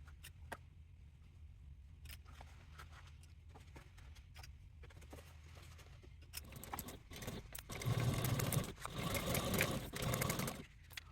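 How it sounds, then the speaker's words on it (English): A sewing machine stitches a handbag seam at a 3/8 seam allowance, first as a faint steady whir with light clicks, then running louder and faster in close, continuous bursts near the end. "You'll take this to a machine and sew at a 3/8 seam allowance"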